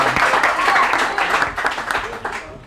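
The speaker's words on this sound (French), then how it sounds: "On applaudit pour ça." Audience applause bursts out at a school quiz competition after a student gives a correct answer: dense, steady clapping from a room full of people that holds for a couple of seconds, then thins and tapers off.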